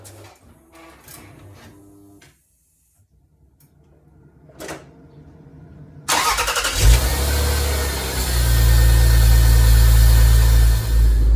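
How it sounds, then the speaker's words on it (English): A Rover 75/MG ZT engine cranks and catches, then settles into a loud, steady idle after a few seconds of quieter mechanical clicks and rustling. "Now let's start up the engine"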